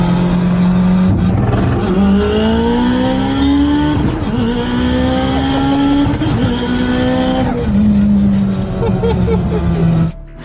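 Mitsubishi Lancer Evolution engine revving steadily under load, a loud close harmonic drone whose pitch climbs through gear pulls and drops at shifts, with tire noise and a brief cut-off at the end.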